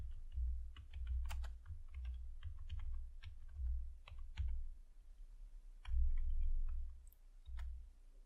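Typing on a computer keyboard, with quick irregular key clicks and taps running close and clear throughout, and no voice over them.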